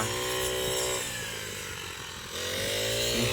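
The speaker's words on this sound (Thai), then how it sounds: "ใส่เครื่องตัดเนี่ยมันก็สีไวกว่ากันพี่น้องไวกว่าเกี่ยว" A rice-cutting machine works a paddy field, its engine giving a steady buzzing drone that dips in pitch and loudness midway before picking back up, close and continuous with no talk.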